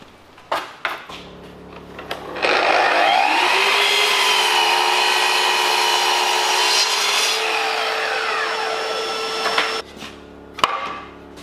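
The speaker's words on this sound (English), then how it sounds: "a bit of heat and a scraper or a chisel, like I'm just using an old chisel, and it seems to crumble away" An old chisel scraping and crumbling heated paint off 90-to-100-year-old reclaimed timber boards from Townsville, a long continuous close rasping stroke, framed by shorter scrapes and knocks at either end.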